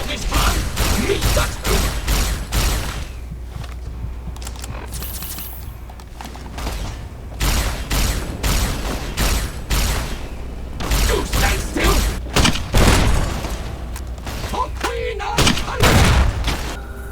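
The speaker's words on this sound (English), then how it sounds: "Plasma rifle works." Rapid, dense bursts of plasma rifle fire in a video game, loud and nearly continuous with rhythmic repeating shots, mechanical clanks and booming impacts throughout.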